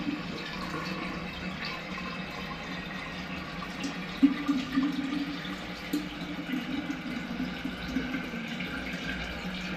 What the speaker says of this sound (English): So I'm going to fill it up with some water.